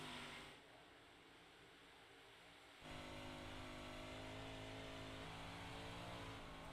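A race car engine at Eldora dirt track drones at a distance, then its pitch jumps as the throttle opens, holding a louder revving roar to the end.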